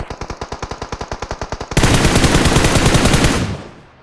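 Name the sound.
machine gun fire in a video game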